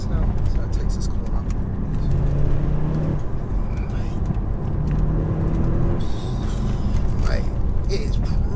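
Audi S8 with 680 bhp pulling hard through tight corners, a steady deep engine drone with shifting tones under a voice talking throughout.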